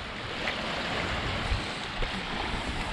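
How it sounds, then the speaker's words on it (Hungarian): Small stream trickling into the sea beside a rocky shoreline at Vrasna, Greece: a steady, broadband watery rush with gentle surf, continuous and fairly close, with no voices. "valami patak csörgedez bele a tengerbe"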